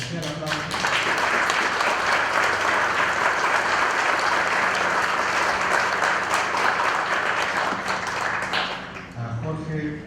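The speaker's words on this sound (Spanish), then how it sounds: "a quien pido un especial aplauso" Applause for invited guests at an international academic conference session in Arequipa, a strong, sustained round of clapping from the audience, with a speaker's voice heard briefly before it swells and again as it fades.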